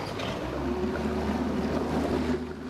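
Boat motor running steadily with a continuous low drone and faint wind and water wash around it, fairly loud and even throughout without talk.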